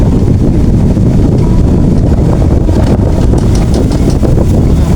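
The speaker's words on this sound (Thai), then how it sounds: "บรรยากาศดีดีพี่น้องลมแห้งแห้ง" Dry wind buffets the microphone beside a road through sugarcane fields, a steady loud rumbling roar that fills the whole clip with no voices.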